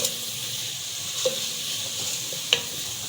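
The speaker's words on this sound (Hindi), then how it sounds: "ये हमारी प्याज भुन गई है, अच्छी सी" Onions browning in a pot for aloo gosht, a steady sizzle with a few sharp scrapes of a spoon as they are stirred, close and moderately loud.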